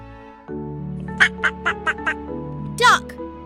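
A run of five quick, nasal duck quacks over light background music, followed by one longer quack.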